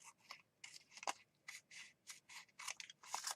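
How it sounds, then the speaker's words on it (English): Scissors snip through paper along an edge for a junk journal, a quick series of crisp, close crunching cuts in short irregular strokes, quiet and with no talk. "I'm going to cut off this edge straight."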